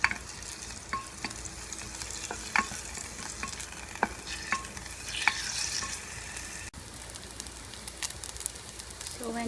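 Pork browns in hot oil in a pot for sundubu jjigae, a close, continuous sizzle broken by sharp clicks and scrapes of stirring.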